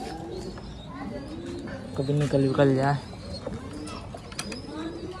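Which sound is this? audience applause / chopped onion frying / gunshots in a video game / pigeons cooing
pigeons cooing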